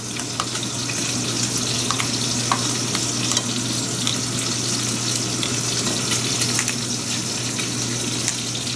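Lamb chops fry in a hot pan, giving a steady loud sizzle with crackling spits and some soft stirring or clattering and no talk.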